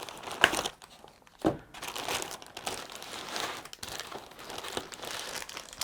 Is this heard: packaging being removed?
yes